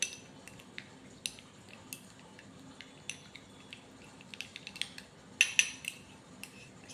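A spoon mixing a scrub into a yogurt face pack in a bowl, with faint scattered clinks and scrapes against the bowl over a low, quiet background.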